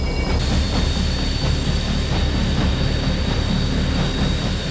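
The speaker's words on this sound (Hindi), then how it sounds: "रूस के कई फाइटर जेट्स ने टेक ऑफ किया" Russian fighter jets take off with a loud, continuous broadband jet roar that stays steady throughout, dense and close, with no talk.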